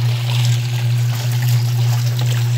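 Water drains through a small hose from a Suggar Lavamax 10 kg washing tub, a steady loud rushing and gurgling flow over a constant low motor-like hum, with no pauses.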